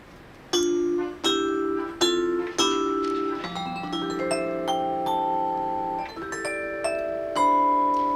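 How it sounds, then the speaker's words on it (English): Mallet strikes on an electric vibraphone played acoustically, without amplification, ring out one after another, bright metallic tones sustaining and overlapping in a slow, gentle melodic line, alone and fairly quiet. "playing these vibes for 45 years now."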